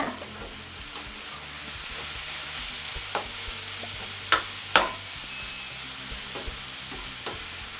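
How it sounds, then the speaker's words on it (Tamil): Vegetables stir-fried over a high flame sizzle steadily in a hot pan with a constant hiss, broken by occasional sharp clicks and scrapes of stirring. "நல்லா ஹை ஃப்ளேமில் வச்சுட்டு நல்லா கலந்து விடுங்க"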